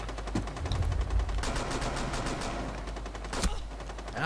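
Rapid automatic gunfire in Rainbow Six Siege, sustained bursts at moderate level with a sharper crack near the end, no talk over it.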